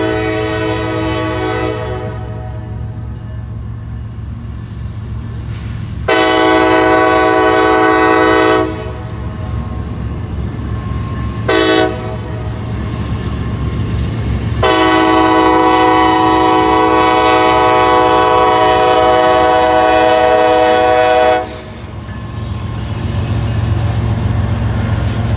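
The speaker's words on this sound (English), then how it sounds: "there was another CSX manifest departing the Waycross Depot as well" CSX manifest freight train departing the Waycross depot, loud rumbling rail noise with several long blasts of the horn, two short and two long, the last one sustained.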